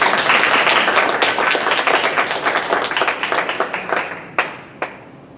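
An audience at an annual general meeting gives a round of applause: dense clapping that starts loud and full, then thins out to a few scattered, separate claps before stopping.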